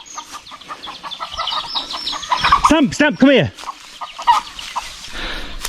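Two hens cluck and about 20 chicks cheep in short bursts close by, while a voice calls out over them now and then.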